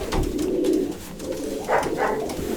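Racing pigeons in a breeding loft give soft, low cooing calls, close and fairly steady, with a few brighter calls rising near the end.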